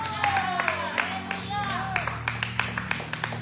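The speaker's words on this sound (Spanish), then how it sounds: "dale un fuerte aplauso al Señor en esta hora" Scattered rhythmic clapping from a church congregation applauding, alongside a sustained musical drone and voices.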